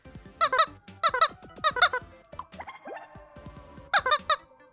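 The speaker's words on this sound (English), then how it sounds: "Small, squeaking chicken man." A small chicken character in the Nintendo game Miitopia gives repeated high, chirpy squeaks in quick clustered bursts, with sparse electronic game sounds between them.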